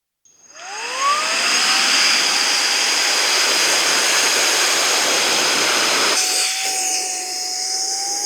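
Nodrax Cyclone-Pro cordless handheld vacuum with a brushless motor blowing air to inflate a bag, starting with a rising whine and then holding a loud, steady rushing whoosh with a high tonal hum, close up, with no voices.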